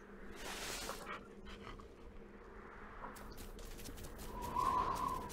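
A hunting dog in The Hunter Classic video game during a snow goose hunt, with faint panting and brief whimpers over a quiet outdoor ambience, plus a few scattered bird sounds.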